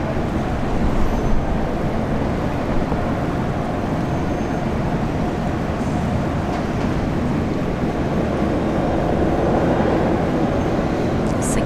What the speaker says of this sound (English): 777 is coming in. Yeah, those scorecards ready. Just see him there. It's an Auckland flight